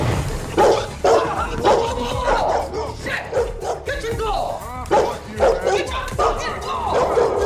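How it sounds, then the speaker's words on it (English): An aggressive dog on a staircase in a Saw horror-film scene barks and yips in repeated sharp bursts, loud and close, under continuous speech and dramatic soundtrack noise. "On the way up the stairs, Zeke is confronted by an aggressive dog."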